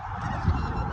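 A large flock of geese or ducks honks over a forest, heard as a blended, fairly faint chorus of calls with no voices.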